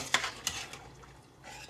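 A spoon scraping and clinking against a pan while scalloped potatoes in cheese sauce are stirred, with two sharp knocks near the start, then softer scraping, close and quiet.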